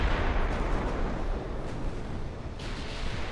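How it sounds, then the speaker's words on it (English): A torpedo strikes a warship in Ultimate Admirals: Dreadnoughts, a heavy, sustained rumbling blast with dense low roar that fills the whole moment and slowly eases, with no voices over it. "That's a torpedo hit."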